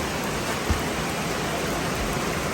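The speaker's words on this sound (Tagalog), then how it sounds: "Punta dito ang ulan, ah." Rain pours down outdoors in a rural province during flooding, a steady, loud hiss of water hitting surfaces close by, unbroken and with no voices.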